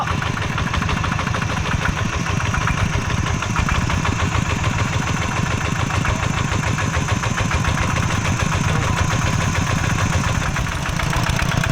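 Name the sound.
water pump engine started and revved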